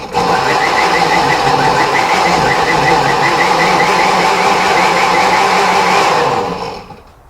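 A food processor runs steadily on pulse while chopping salsa ingredients, a loud continuous motor whir with a chunky churning texture lasting about six seconds, then cutting off and fading at the end.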